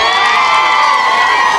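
A large outdoor political rally crowd cheers and shouts loudly and continuously, with whoops and some applause blending into a dense roar.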